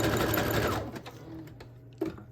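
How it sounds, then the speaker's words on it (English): A sewing machine stitches a pocket made from a book page, a fast whirring burst that slows and fades within a couple of seconds, followed by a faint click, with no talking. "I'm just gonna sew just on the pocket"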